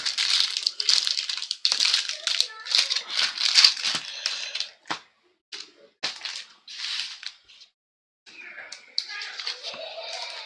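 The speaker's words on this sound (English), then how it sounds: "just shuffling the packs here" Packs of 2022 Topps Star Wars Galaxy Chrome trading cards are shuffled by hand, giving bursts of crinkly foil rustling and soft slaps at close range, with a brief pause before the handling resumes.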